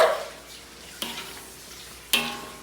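A spoon knocks twice against a pot while sinampalukang manok chicken soup is stirred, two sharp metallic clinks about a second apart over a faint simmering background.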